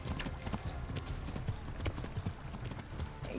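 A horse's hooves clip-clop in the video game Kingdom Come: Deliverance, with rapid, uneven thuds close by over a low rumble of movement.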